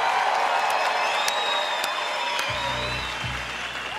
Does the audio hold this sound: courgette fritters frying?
no